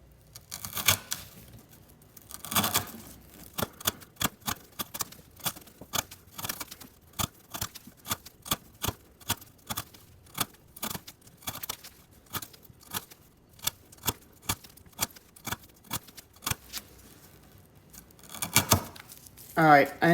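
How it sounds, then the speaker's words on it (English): Repeated sharp slicing snaps come as a CJRB Scoria knife cuts through 1/2 inch twisted sisal rope, dozens of crisp cuts at an irregular pace with brief rustles between them. "now we're gonna cut up some of this 1/2 inch twisted sisal rope"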